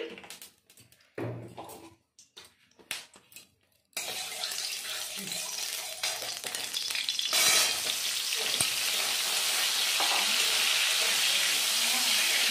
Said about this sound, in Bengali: কড়াইটা গরম হয়ে গেছে, এখন আমি বড়িগুলো ভেজে নেব। দিয়ে দেবো সর্ষের তেল,